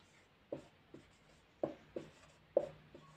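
Chalk or marker strokes on a board, a handful of short, soft taps and scrapes spaced irregularly, quiet and close with a faint room hum and no talking.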